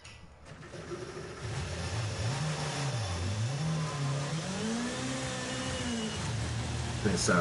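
A race car engine drones and revs up and down steadily, its pitch rising and falling through gear changes, loud and continuous, with a game-like quality.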